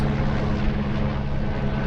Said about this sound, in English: I got a police chopper. They're looking for somebody.